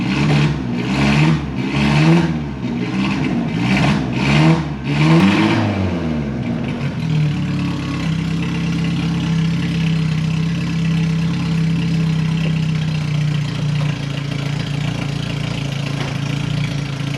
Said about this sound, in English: Listen, I've never heard an angrier 4 cylinders.